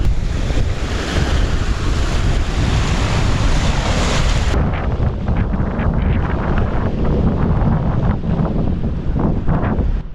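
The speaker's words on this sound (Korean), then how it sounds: "근데 파도가 엄청 많이 치네." Heavy waves crash and churn against a shore in Ladakh, India, loud and continuous, with strong wind buffeting the microphone through the first half.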